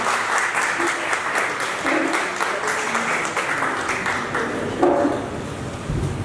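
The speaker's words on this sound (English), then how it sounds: "Everybody please give them a round of applause." An audience at an ETHKL tech meetup applauds as two guests come on stage, a sustained crowd clapping with a few cheers mixed in, loud and continuous for several seconds.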